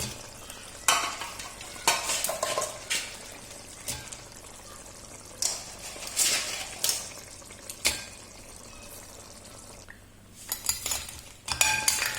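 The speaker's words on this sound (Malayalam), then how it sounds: "ഇതിലേക്ക് നമുക്ക് ഞണ്ട് വാരിയിടാം. നല്ല തിളച്ച്" Crab pieces go into a pot of boiling curry, with repeated scraping stirs, clinks of a utensil against the pot and a steady bubbling sizzle, close and fairly loud over about twelve seconds.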